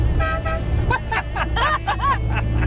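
Horn of a 1970 Triumph GT6+ sports car sounding up close in a few toots of varying length, with people's voices mixed around it.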